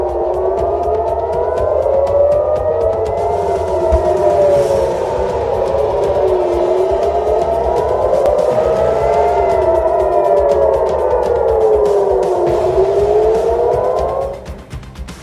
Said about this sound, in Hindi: तेल अवीव रात भर सायरन की आवाज से गूंजता रहा